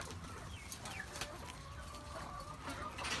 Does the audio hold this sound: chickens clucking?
yes